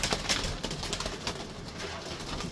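A green Cheena pigeon coos in soft, low, rolling notes close by, joined by other pigeons murmuring in the loft, with no voices.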